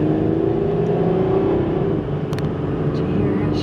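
A Chevy Lumina with a 3.1-liter V6 and 74k miles speeds up toward 50 mph, a steady loud engine drone and road rumble heard from inside the car, with a faint clink near the end.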